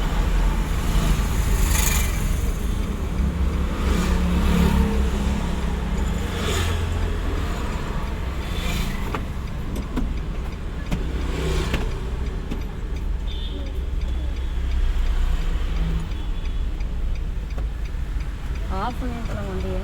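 A car's engine idles steadily at a standstill during a driving lesson, a constant low hum running throughout with people talking over it and occasional ticking.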